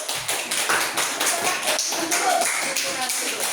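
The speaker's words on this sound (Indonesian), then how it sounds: "beri tepuk tangan" A classroom of students claps in a brisk, uneven patter that continues throughout, close and fairly loud, with some voices mixed in.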